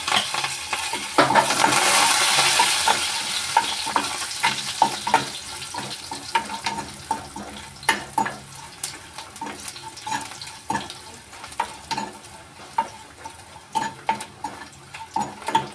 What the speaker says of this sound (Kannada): ಬೆಳ್ಳುಳ್ಳಿ ಹಾಕೋತಾ ಇದ್ದೀನಿ. ಕರಿಬೇವು ಹಾಕೋತಾ ಇದ್ದೀನಿ.